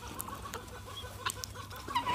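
Faint, scattered white guinea fowl calls, harsh and clucking, repeat against a quiet farmyard background with a louder squawk near the end.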